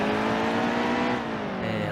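A NASCAR race car at full throttle in the video game NASCAR Heat 2 on the Charlotte Roval, its engine howling loud, close and continuous for a brief stretch.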